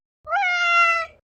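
A pet cat gives a single drawn-out meow, clear and close, lasting about a second with no other sound around it.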